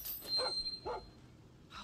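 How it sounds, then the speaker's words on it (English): A dog in the video game Far Cry 6 gives a few short, soft barks or yips at close range, separated by brief pauses, over quiet game ambience. "A dog?"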